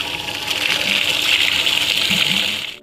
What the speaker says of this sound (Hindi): चलो, पानी भर चुका है